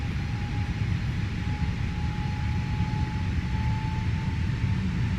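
Airbus A320neo engines from the FF320 NEO sound pack in a flight simulator, taking off from runway 02 at Tegucigalpa: a loud, steady roar with a thin sustained whine riding on top.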